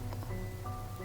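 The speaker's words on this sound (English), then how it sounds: "Oh, it's starting to rain." Rain starting to fall during a Ravage mission in a video game, a soft steady patter over a low hum, brief and quiet with no voices.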